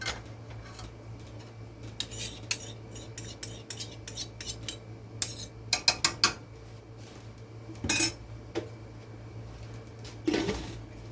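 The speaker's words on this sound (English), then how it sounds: "I'm going to just get some of the soup into our bowl." Soup is ladled into bowls for a fall meal, giving scattered metallic clinks and taps of ladle and spoon against dishware, with quieter gaps between the bursts and a low steady hum underneath.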